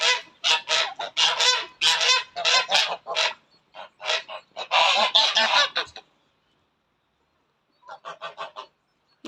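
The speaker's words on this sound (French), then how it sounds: "Voilà les dindons. En plus il fait la roue." Turkeys on a farm gobble in loud, close, rapid warbling bursts for several seconds. After a short silence, another quicker series of gobbles follows.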